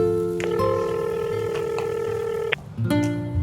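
A phone rings with a steady electronic tone that holds, cuts off, then starts again, close and clear over a low background hum.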